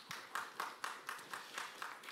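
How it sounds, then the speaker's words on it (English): A small audience claps for a discussion panel at a media forum in Addis Ababa. The applause is faint and distant, with no voices heard. "A round of applause, please"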